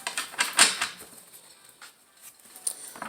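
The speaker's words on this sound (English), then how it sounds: "One more shuffle." Tarot cards are shuffled by hand in a short run of quick, soft papery flutters and taps, close and fairly quiet in a still room.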